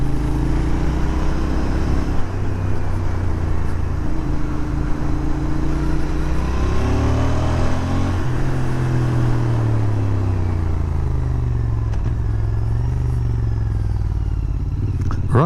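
A Royal Enfield Interceptor 650 twin motorcycle on a test ride, engine held around 4,000 revs, loud and steady with rising and falling harmonic pitch as the throttle varies, wind and road noise throughout.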